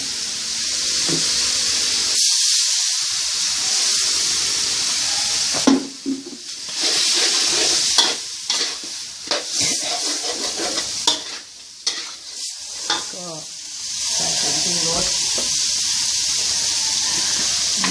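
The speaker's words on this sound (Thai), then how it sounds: "แล้วก็ใส่น้ำลงไปนิดนึงใส่น้ำหน่อยนึง" Water splashed into a hot pan of stir-fried village chicken with curry paste and cumin leaves, setting off a loud burst of hissing, spitting sizzle broken by repeated stirring scrapes, then settling back to a steady fry.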